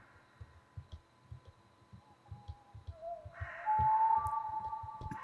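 An eerie bird cry rings out in the horror farming video game We Harvest Shadows, a drawn-out high wail rising over a quiet, steady low thumping pulse, with no talk.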